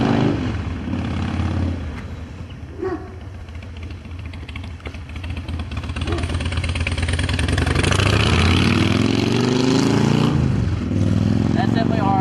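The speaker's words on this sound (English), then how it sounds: "It's just a Harley in the background." A Harley motorcycle engine rumbles in the background, idling then revving louder, with a person talking over it.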